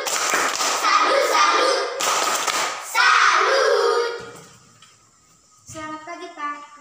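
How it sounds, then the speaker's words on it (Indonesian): A classroom of children clapping in rhythmic bursts for about four seconds, loud and close, then fading to quiet with a few voices speaking at the end. "Tepuk salut dulu untuk mereka berdua."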